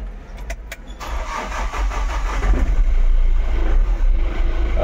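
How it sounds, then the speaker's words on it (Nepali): A Mahindra Bolero with about 89,000 km on it cranks with a few short clicks, then its engine catches and settles into a loud, steady low rumble close by. "गाडी स्टार्ट गरेर नि देखाइसक्यो हैन,"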